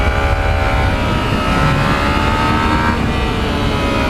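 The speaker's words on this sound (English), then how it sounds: "I love the sound when you hold that throttle wide open." A 2020 Yamaha MT-09 motorcycle exhaust held at wide open throttle, giving a loud, continuous engine roar with a steadily rising pitch that lasts throughout, with no talk.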